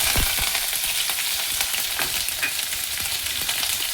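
Garlic, green chili and curry leaves sizzle loudly in hot oil, a continuous bright crackle with stirring scrapes, close up and without talk.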